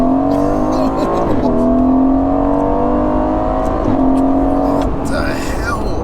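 A twin-turbo 503 bhp V8 Aston Martin Vantage accelerates hard, its loud, steady engine note rising in pitch through the gears with brief dips at shifts, heard from inside the car with people talking over it.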